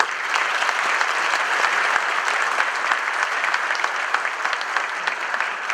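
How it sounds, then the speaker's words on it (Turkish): Hall-wide applause at an awards ceremony for eleven companies: a dense, continuous wash of clapping from a large audience, loud and even from start to finish. "bu 11 firmamızı bir alkışlamak istiyorum"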